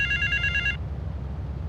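A payphone rings in GTA III with a short, bright electronic trill that cuts off after under a second, leaving a low background hum.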